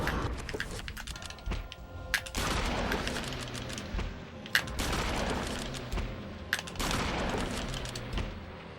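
Repeated gunshots from the Eternal Darkness game, several sharp reports spaced a second or two apart over a steady busy background, with no one speaking.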